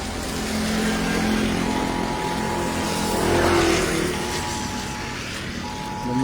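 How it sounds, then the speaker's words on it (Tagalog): Traffic moves slowly through a flooded street, with a steady engine drone and water-splashing hiss that swells near the middle as a vehicle passes close by, then eases off. "Gumagalaw na yung traffic."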